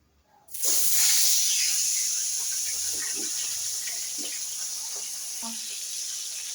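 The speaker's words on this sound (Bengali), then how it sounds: "কড়াই গরম হয়ে গেছে এখন এই মাছগুলোকে ভেজে নেবো" Fish dropped into hot oil in a heated wok bursts into a loud sudden sizzle that settles into a steady, slowly fading hiss with small pops throughout.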